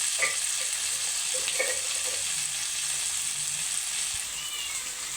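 Tomato pieces frying in a pan for tomato rice give a continuous, even hiss of sizzling oil, close and steady throughout, with a few faint stirring knocks early on and no talking.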